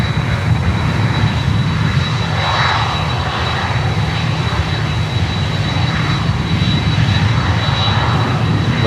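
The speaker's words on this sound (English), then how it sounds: "you can hear Latam basically, the engines of the CF6 engines of the 767" A LATAM Boeing 767 with General Electric CF6 jet engines roars steadily at an airport, a loud, continuous airliner engine noise that holds for the whole stretch with no voices.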